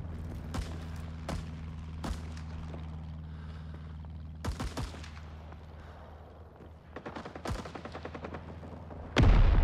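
Gunfire from the Vietnam War shooter Rising Storm 2 with a BAR in hand: sharp rifle shots and short bursts crack at irregular intervals over a steady low battlefield rumble, with a loud blast at the end.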